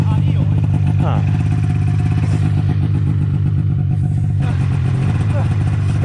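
A snowmobile engine idles roughly and is blipped on a snowy mountain, a loud close low throb with rising revs and clattering bursts.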